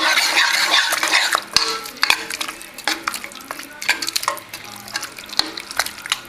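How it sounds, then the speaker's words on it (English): Organic mixed vegetables tumble into a pot and get stirred, a busy run of scraping utensil clicks and knocks against metal over a soft sizzle, close and steady with no talking. "I'm going to go on ahead and add about a half a bag of my organic mixed vegetables"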